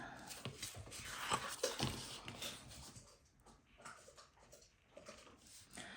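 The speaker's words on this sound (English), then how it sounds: "You can hear my dogs crunching on bones right now." Dogs crunch and gnaw on bones nearby, irregular cracking and chewing with some snuffling and faint whimpering, quiet overall.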